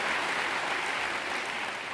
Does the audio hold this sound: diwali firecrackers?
no